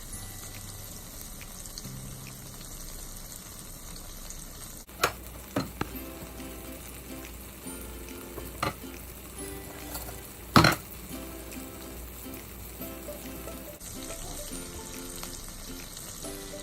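Seasoned meat sears in a very hot pan with a constant bright sizzle and crackle. A few sharp metallic clanks of a utensil against the pan break in midway, and a louder clatter follows before the hiss carries on.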